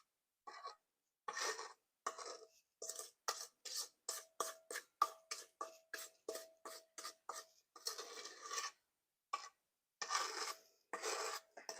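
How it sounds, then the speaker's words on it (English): Banana bread batter being folded in a bowl, a quick series of soft scraping, rasping strokes, close and fairly quiet, with short pauses between bursts. "We'll add all of this into here. I'll fold it in."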